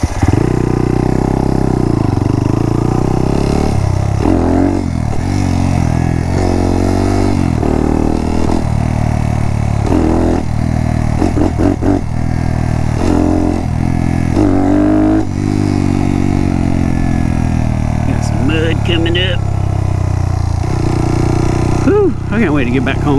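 Honda Monkey motorcycle ridden along a trail, its small engine loud and close with shifting revs and clattering bumps throughout, while a voice talks over it at times.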